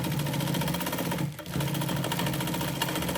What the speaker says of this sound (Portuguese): Termina de costurar.